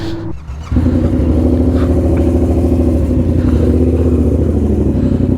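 A motorcycle engine starting up and running, a steady loud low drone after a brief pause at the start, close by with no talking.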